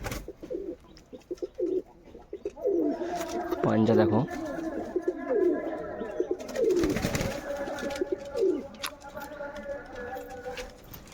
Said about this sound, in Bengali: এটা আমার নর পায়রা আছে